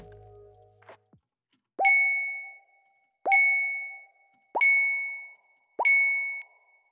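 A designed phone notification chime sounds four times at even intervals, each a bright bell-like ding with a sharp attack and a ringing decay, alone after a short quiet lead-in.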